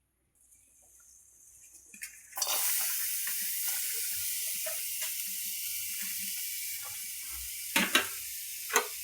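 Chopped onion hitting a hot, dry kadhai for egg bhurji bursts into a loud, steady hiss that starts after a quiet moment and keeps sizzling, with occasional stirring clinks and scrapes.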